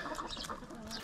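A broody mother hen clucks close by among her newly hatched chicks, with soft, rapid calls and faint high peeps running continuously through the brief moment.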